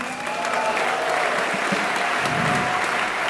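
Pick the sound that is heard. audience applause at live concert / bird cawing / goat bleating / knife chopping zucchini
audience applause at live concert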